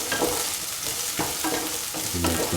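Onions sauté over a high flame in a pan, a loud, close sizzle punctuated by repeated scraping stirs of a spatula, with a brief clank near the end; no one speaks.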